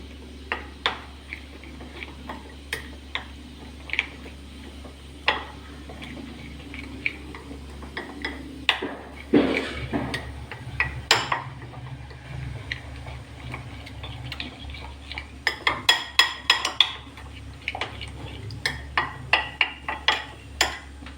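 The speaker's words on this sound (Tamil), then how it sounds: "ராகி பவுடரில் வந்து கொஞ்சம் தண்ணி ஆட் பண்ணி நல்லா மிக்ஸ் பண்ணி விடலாம்" Spoon repeatedly scraping and tapping a bowl while stirring ragi powder mixed with water, a steady run of light clinks and ticks, close and fairly quiet, busier toward the end.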